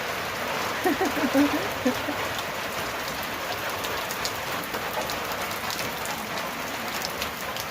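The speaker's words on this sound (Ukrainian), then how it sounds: "Слава Богу! Красота яка, нехай йде дощик" Steady rain pours down in a dense, even hiss, with a few faint voices briefly audible early on beneath the downpour.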